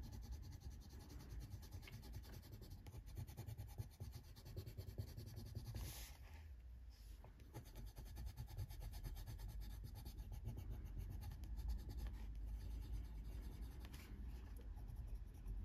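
A colored pencil burnishes pigment on paper, a soft continuous scratchy rubbing with steady back-and-forth strokes, close and quiet, with no talking.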